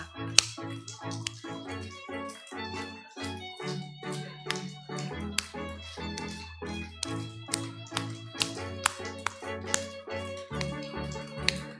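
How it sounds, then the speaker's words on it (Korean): An audience claps in a steady rhythm, alternating fist and open palm, producing a run of sharp, evenly spaced slaps with duller thuds between them, close and clear. "주먹과 보자기를 번갈아 가며 박수 쳐주세요"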